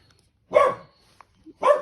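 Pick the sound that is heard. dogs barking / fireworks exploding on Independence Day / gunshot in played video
dogs barking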